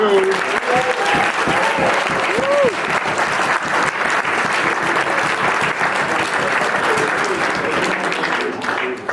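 Wedding guests at a reception break into sustained, loud applause after a groom's thank-you speech. The clapping is dense and continuous for about nine seconds, with a few whoops and voices rising over it early on.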